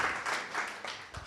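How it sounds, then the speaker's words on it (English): A short burst of audience clapping at a cybersecurity meetup, fairly soft and slightly distant, with the applause fading a little over its brief span. "Let's give another round of applause here."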